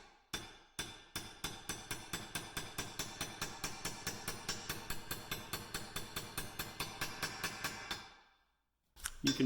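A hammer drives bushings into the rear a-arm of a 2019 Polaris Ranger 1000 XP through a half-inch socket extension. About thirty sharp metallic blows land close and evenly spaced, then pause before a final few strikes.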